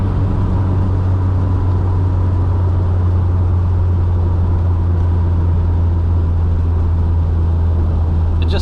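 A Mk2 Golf GTS with a turbocharged 16-valve engine drones steadily from inside the cabin while cruising, a loud, constant low hum with road noise and no talk.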